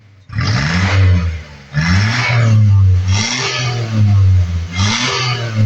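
Close, loud revving of a four-cylinder car engine, with four strong pulses of roaring throttle separated by brief dips back toward idle.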